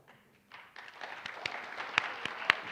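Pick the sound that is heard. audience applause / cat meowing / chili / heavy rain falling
audience applause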